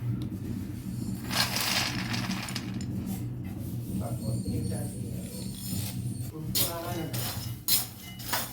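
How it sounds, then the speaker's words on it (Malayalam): Peanuts roasting in hot salt in a pan, stirred with a utensil that gives repeated gritty scrapes and clinks, with a person talking over them. "ഉപ്പ് ചൂടായിട്ടുണ്ട് ഇനി ഇതിലേക്ക് നമുക്ക് ഈ കപ്പലണ്ടി എടുത്തിടാം"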